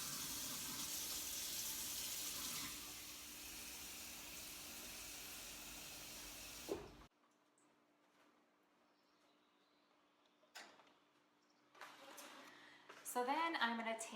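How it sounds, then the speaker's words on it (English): Tap water runs steadily into a pot holding eggs, a loud even rush for about seven seconds before it stops. Quiet kitchen clatter and a voice follow. "I'm going to fill it up water just above the eggs, maybe half inch above the eggs"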